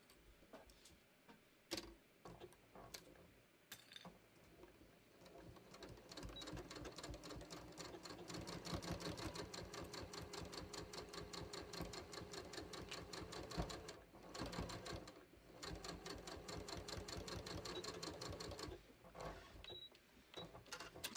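A sewing machine stitches a seam on a garment top set with crystals: a few brief taps and starts, then a long run of rapid, rhythmic clattering stitches, close and fairly quiet, with no voices.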